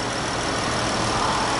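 A Dodge Charger SE with a 3.6-liter Pentastar V6 runs steadily under the hood, a continuous engine drone heard close and even throughout.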